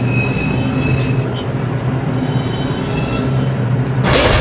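An NYC subway R142 car on the 5 train runs along the IRT line with a steady rumble, tonal hum and high wheel squeal. A brighter burst of noise comes near the end.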